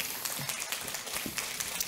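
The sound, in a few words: audience applause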